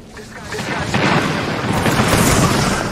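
Bangalore's artillery strike in Apex Legends pounds out a dense run of loud, overlapping booms and explosions, heavy and continuous throughout, with a voice talking over the barrage.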